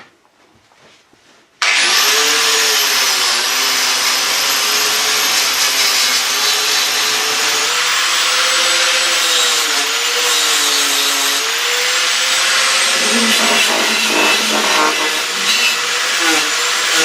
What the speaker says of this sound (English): Let's get the wire wheel at that.